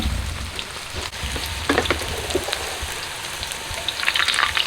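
Thai fried wontons dropped into very hot deep-frying oil on high heat, giving a steady close crackling sizzle with brighter popping bursts, no voices.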